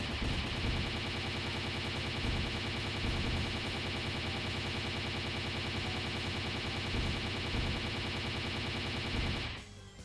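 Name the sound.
machine gun fire in the Disgaea 2 video game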